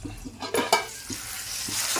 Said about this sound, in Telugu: ఈ ఉల్లి మసాలతో దొండకాయలు కూడా బాగా వేగాలి